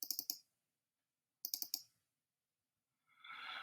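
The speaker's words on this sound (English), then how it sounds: "When I double click on this," Computer mouse clicked rapidly in two close, crisp bursts about a second apart while a Premiere editing project is open, followed by a soft brief rustle near the end.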